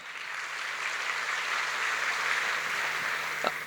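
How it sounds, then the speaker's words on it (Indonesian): An audience at a business summit claps in a steady, even wash of applause that holds at moderate loudness throughout, with a single sharper sound near the end. "Kasih tepuk tangan."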